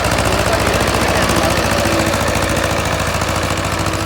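An Escort 345 tractor engine running close and loud, a steady rapid diesel knocking from the piston that holds throughout without pause.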